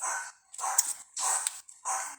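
A dog barks four times in quick succession indoors at home, moderately close, with short gaps between the barks.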